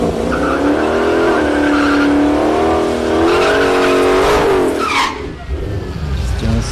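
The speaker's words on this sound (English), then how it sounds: "Here comes the Hellcat. Skinny in the front, radials in the rear." A Dodge Hellcat drag car with skinny front tires and rear radials makes a solo pass at a drag strip, its engine note loud and close, climbing through a long revving wail before fading into the distance.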